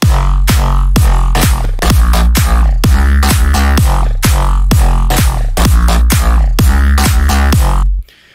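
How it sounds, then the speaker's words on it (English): Drums and bass playing together in a mix, a steady driving groove of punchy kicks and snappy hits over a deep bass line, loud and continuous before stopping abruptly at the end. "Now we have drums and a bass"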